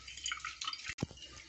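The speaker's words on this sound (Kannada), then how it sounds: "ಇದನ್ನು ನೀರು ಹಾಕಿ ಒಂದು ಸರಿ ಕ್ಲೀನಾಗಿ ಎಲ್ಲ ತೊಳ್ಕೊಳ್ಳೋಣ" Water poured over chhena to rinse it for rasgulla, heard as a faint trickle with a single soft splashing drip near the end of a short moment.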